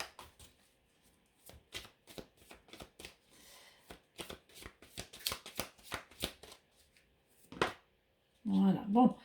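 Tarot cards being shuffled by hand, a run of crisp riffling snaps and flicks in irregular bursts at close range, then a brief voice speaking near the end.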